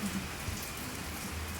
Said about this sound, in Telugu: బయట వర్షం